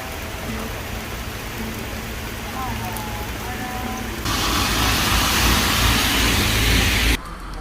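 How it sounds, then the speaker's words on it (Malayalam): Monsoon rain pours down near the Athirappilly waterfalls in Kerala as a dense, steady hiss. It swells heavier midway, then drops off abruptly near the end. "കറക്റ്റ് ടൈം ഇവിടെ എത്തിയപ്പോഴത്തേക്കും മഴ പെയ്ത്."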